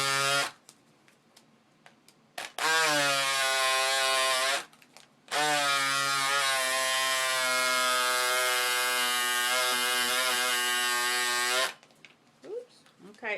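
Electric fabric cutter buzzing through several stacked layers of cloth in two long steady runs, a loud close motor whine separated by brief pauses.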